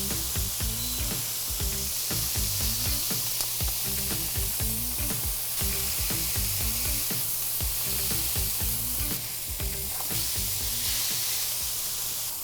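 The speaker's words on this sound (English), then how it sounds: "the patties are kind of gently finishing cooking on the second side" Thin beef patties for a patty melt sizzle on a hot griddle that has been switched off, giving a loud, dense, continuous frying hiss with crackling pops close up and no talk.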